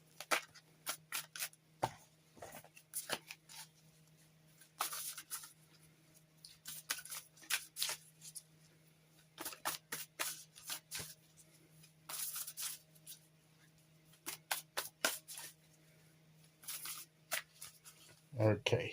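Tarot cards are shuffled and drawn by hand, making repeated close, crisp riffling and flicking bursts in an irregular rhythm throughout, with a faint steady hum underneath.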